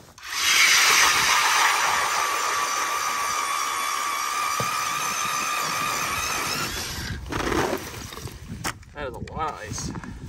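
An ice auger bores a hole through almost a foot of lake ice at a winter campsite on a rocky point, a loud continuous grinding drone for about seven seconds before it stops and rougher scraping and shuffling follow.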